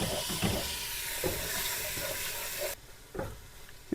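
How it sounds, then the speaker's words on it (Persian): Beef pieces frying with onions in oil in a pot for Persian gheymeh split pea stew give off a steady moderate sizzle with a few louder pops and stirring bursts, fading quieter near the end. "یه تفتی باید گوشتا ببینن، یه مقداری به قول معروف رنگشون برگرده"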